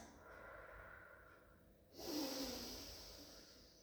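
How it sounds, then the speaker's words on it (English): Soft, deep breaths during a stretching workout: a faint, breathy inhale for about two seconds, then a louder, rushing exhale, close and quiet with no talking. "so we're taking some deep in-out breaths"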